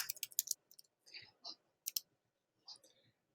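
A few sharp computer mouse clicks in quick succession, near and crisp, separated by short silences, with faint breathy sounds between them.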